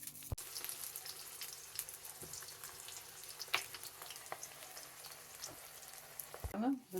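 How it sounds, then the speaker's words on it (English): Eggplant slices fry in hot oil in a pan, giving a steady, moderately loud sizzling hiss throughout, with a few small clicks and a brief clatter near the end. "We lightly fry both sides of the eggplant"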